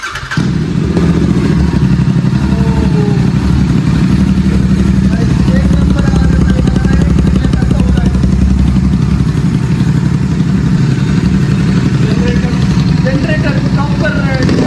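A Royal Enfield GT 650 motorcycle fitted with a Red Rooster aftermarket exhaust runs steadily in neutral, a loud, close, deep rumbling drone that holds for the whole stretch while voices murmur faintly in the background.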